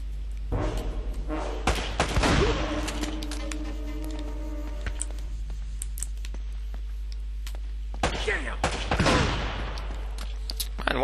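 Shotgun blasts and gunfire from the video game Uncharted: Drake's Fortune arrive in a couple of sharp bursts over ongoing game sound, with no talking.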